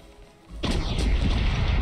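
Ship cannons fire in the Corsairs Legacy naval battle game, starting with a sudden heavy boom after a short quiet stretch, then a loud sustained rumbling roar of gunfire and explosions.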